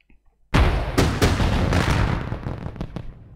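Cannons fire during a Minecraft battle at Stendel: a sudden loud boom breaks the quiet, then several more blasts and rumbling follow and gradually fade.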